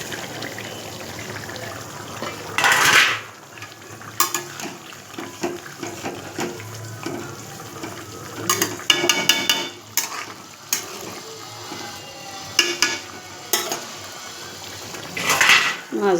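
Pieces of river catfish dropped into a simmering curry in a pot, then stirred with a utensil, occasional clanks of metal against the pot over a steady bubbling simmer, close and fairly quiet.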